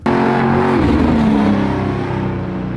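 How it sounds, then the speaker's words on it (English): A custom Ford Galaxie 500 with fully custom headers and stainless exhaust revs hard, its engine note climbing then settling into a loud, close, throaty idle drone that fades slightly at the end. "it just makes a killer sound. I love the sound of this car."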